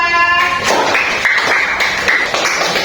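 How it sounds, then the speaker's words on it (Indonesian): Students in a classroom break into quick, dense clapping for a group, a steady burst of many hands close by that carries on without pause for a few seconds. "Tepuk tangan untuk kelompok 2."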